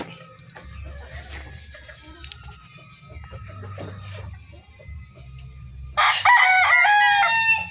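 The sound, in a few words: chickens and rooster crowing in a backyard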